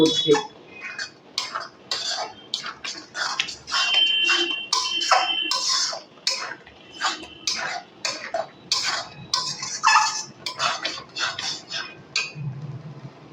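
Carrot laddu mixture with cardamom powder being stirred in a pan, a spoon clinking and scraping against the metal in steady irregular strokes, close and fairly loud, with no talking.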